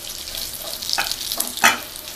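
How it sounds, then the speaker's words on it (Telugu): Eggs frying in hot oil for egg pulao, a constant crackling sizzle with a few sharper pops and a clink near the end, close and moderately loud, no talk. "ఇలా ఫ్రై అయ్యాయి కదా, ఒక 2-3 నిమిషాలు ఫ్రై చేసుకుంటే సరిపోతుందండి"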